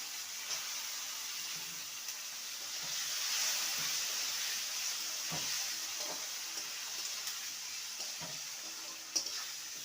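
Tomato and potato fry in a pan, giving a continuous bright sizzle with soft scraping strokes of stirring scattered throughout and one small knock near the end.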